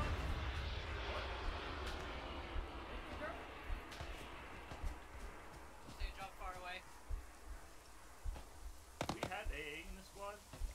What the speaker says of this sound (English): Incoming plane. Is that fucking plane again?